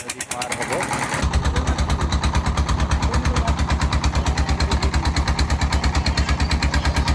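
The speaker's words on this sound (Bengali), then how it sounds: "ইঞ্জিন চালিত নৌকা দিয়ে আমরা এই নদী পার হব।" An engine-powered boat crossing the Chelai river near Bholaganj runs with a loud, steady rapid engine throb that starts abruptly after a brief quieter opening and continues evenly throughout.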